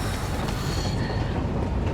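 A train passes in the video game Metro Exodus, producing a dense, steady rumble of rolling wagons with a faint metallic squeal above it, loud and continuous for about two seconds.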